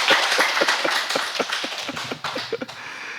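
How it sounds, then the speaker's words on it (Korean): An audience at a Buddhist lecture claps in a steady rhythm of sharp, evenly spaced claps against a faint room hiss, moderately loud and lasting a few seconds. "박수를 치시려고 크게 치세요."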